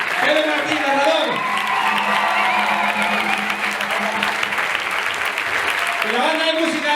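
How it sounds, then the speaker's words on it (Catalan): A crowd applauds the narrator at a Christmas concert given by a municipal music society's band, a broad, sustained wash of clapping in a hall, with a voice briefly heard at its start and again as it fades. "I un fortíssim aplaudiment per a Pepe Martín, narrador."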